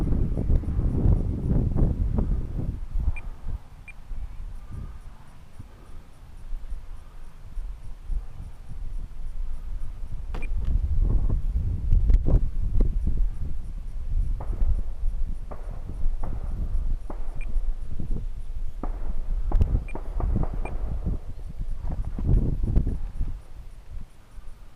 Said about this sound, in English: There's wind. This is too much.